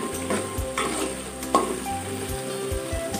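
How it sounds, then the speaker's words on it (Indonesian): Chili peppers fry in oil previously used for frying eel, giving a steady close sizzle broken by repeated scraping and stirring clatters from a utensil against the pan, with no talking. "Minyak untuk goreng cabai ini harus minyak yang sudah menggoreng belut tadi ya"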